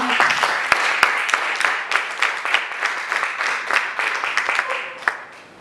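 Church congregation in a lively worship service clapping and cheering together, a dense burst of hands sustained for several seconds with scattered sharper claps, filling the room before tapering off.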